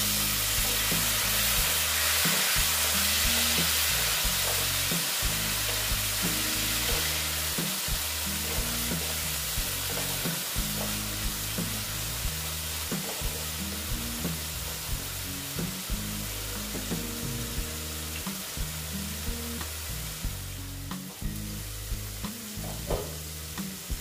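Spice masala frying in oil in a pan, with a continuous close sizzle under steady rhythmic stirring and scraping that knocks repeatedly against the pan throughout.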